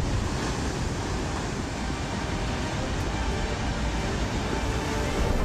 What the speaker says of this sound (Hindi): पानी का बहाव ऐसा था कि जो कुछ रास्ते में मिल रहा था सब बहता जा रहा था।